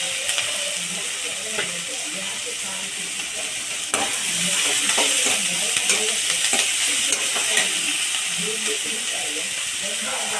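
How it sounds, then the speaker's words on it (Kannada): Chopped onion fries in a pan for ghorikayi palya, a steady loud sizzle and hiss with occasional spoon scrapes and stirring clicks, growing slightly louder midway. "ನೋಡಿ, ಈರುಳ್ಳಿ ಫ್ರೈ ಆಯಿತು"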